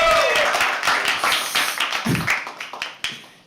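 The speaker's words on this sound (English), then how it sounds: "So can we please have another round of applause for it?" Audience at a live poetry open mic claps in a short burst of applause that thins out into scattered individual claps and fades over a few seconds.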